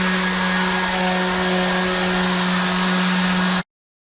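A power sander with no sandpaper fitted runs against reclaimed cypress boards, a steady close motor whine with a strong hum that stops abruptly near the end.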